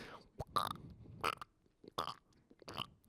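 Mouth-made fart noises without using hands, several short wet buzzing bursts spaced about every half second to second, close and fairly quiet, a voice imitating the sound.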